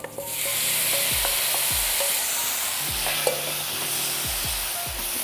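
Onion and tomato fry in a pan for shakshuka. A steady, loud sizzle runs throughout, with repeated utensil scrapes and stirs and one small clink, and nobody speaks.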